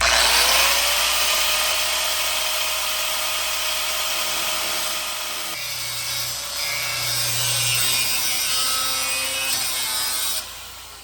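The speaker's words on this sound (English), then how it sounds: "I picked up a open box angle grinder at Harbor Freight today." An angle grinder, an open-box Harbor Freight unit, cuts metal while repairing a 1972 VW Super Beetle. It gives a loud, sustained whine with shifting pitch as the disc bites, then cuts off abruptly near the end.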